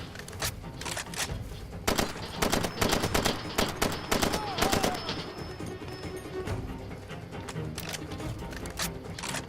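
Rapid bursts of automatic gunfire in the video game Far Cry 2, dense volleys of sharp shots repeating throughout, some close and loud, others overlapping into a continuous fusillade.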